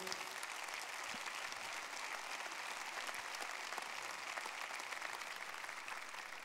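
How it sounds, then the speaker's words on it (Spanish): A church congregation breaks into sustained, loud applause during a sermon on Juan 14, with a dense, steady wash of clapping that fills the space from start to finish with no voices over it. "dele un fuerte aplauso"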